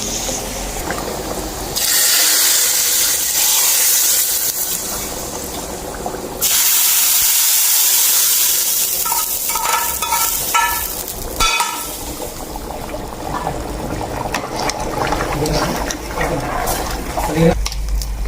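Spices tempering in hot oil for a country chicken curry hiss and sizzle in loud bursts that rise and fade, with stirring clatter and a voice talking between.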